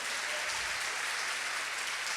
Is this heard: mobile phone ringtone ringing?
no